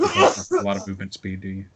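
A single sharp sneeze breaks out during a Pathfinder tabletop game session, close and loud, immediately followed by someone talking.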